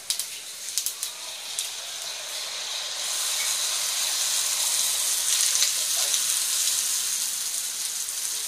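Bangladeshi jilapi batter frying in hot oil, giving a soft continuous sizzle and hiss that swells after a few quiet crackles.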